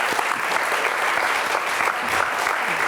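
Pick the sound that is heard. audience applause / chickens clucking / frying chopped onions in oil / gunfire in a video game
audience applause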